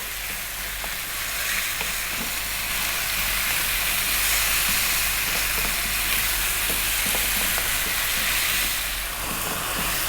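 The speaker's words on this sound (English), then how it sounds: "So those tomatoes are cooking down, as you can see, giving off a little bit of moisture" Chopped tomatoes cooking down in a pan for a potato okra curry, giving off a loud, continuous close sizzle and hiss with faint stirring scrapes underneath.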